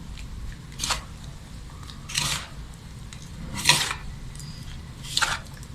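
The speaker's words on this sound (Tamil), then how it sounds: "இப்போ இதை நம்ம நல்லா பிசையலாம். நல்லா மிக்ஸ் பண்ணிக்கோங்க." Unniyappam dough of mashed banana and flour being kneaded by hand, with four soft, wet squishing bursts spaced a second or so apart against a quiet kitchen background.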